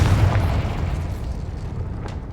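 A Confringo blasting spell exploding in Hogwarts Legacy, one deep booming burst up front that rumbles and slowly fades, heard close and loud.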